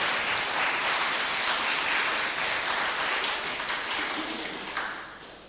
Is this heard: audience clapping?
yes